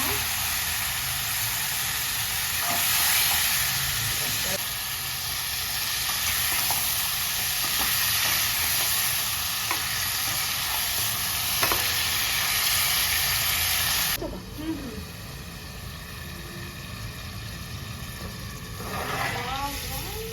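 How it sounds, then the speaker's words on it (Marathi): Masala tempering and frying in a pan gives a steady, dense sizzle and hiss that runs close and continuous, dropping in intensity partway through, with occasional clinks and brief voices. "पहिली आहे ना फोडणी देऊ घ्यायला आणि मग ह्याच्यात टाकते सगळं आणि फ्राय झालं ना सगळं"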